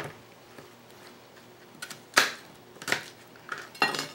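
Small cut onion pieces dropped into a pot for a pot roast stew, quiet at first, then three or four close clattering thuds and rattles against the metal.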